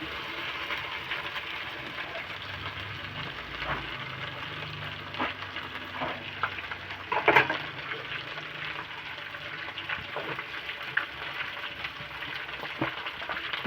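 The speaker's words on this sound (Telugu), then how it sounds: "ఇప్పుడు బెండకాయలని వేసేసుకోవాలి" Okra sizzles in hot oil in a pan in a home kitchen and is stirred now and then, a steady crackling frying hiss that runs throughout with a few louder scrapes and pops near the middle.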